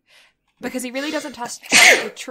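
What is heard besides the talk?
sneeze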